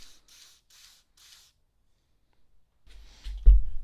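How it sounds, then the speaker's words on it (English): Lubricant is sprayed onto the adapter shaft of a cam bearing tool. Four short, soft hissing spritzes come close together, then a pause, a final brief spray and a dull thump. "let's lube up the adapter shaft"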